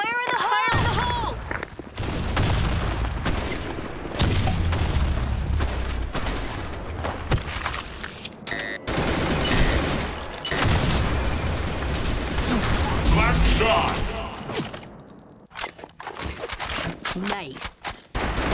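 Dense video-game combat with rapid automatic gunfire and scattered blasts, including a grenade explosion, crackling almost nonstop near and loud, with voices in the mix.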